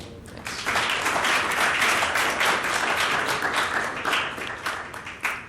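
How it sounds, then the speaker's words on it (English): Audience applause for a panel at a secure-communications industry event, steady dense clapping that swells in and holds for several seconds, moderately loud and without talk. "I'd like to just provide a warm round of applause for our panelists today"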